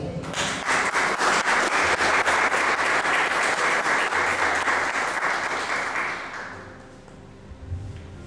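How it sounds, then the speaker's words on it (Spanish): A church audience bursts into sustained, dense applause that holds strong for about six seconds, then fades out as a low keyboard note lingers. "Un aplauso."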